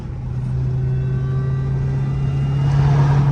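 The engine of a Dodge SRT Hellcat revs below full throttle, holding a steady, close, droning rumble that swells slightly toward the end.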